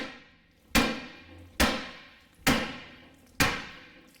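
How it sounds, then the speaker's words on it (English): A hammer strikes a steel steering knuckle four times at steady intervals to break a seized ball joint loose, each blow a sharp, ringing metallic bang that decays quickly, with no talk. "So I'm gonna take a hammer and give it a hit here, and we're just gonna break this loose."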